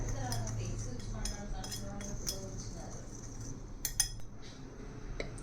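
A spoon clinking against a bowl while stirring milk powder into sugar syrup for a homemade sweet, with light scattered taps and scrapes over a low background hum.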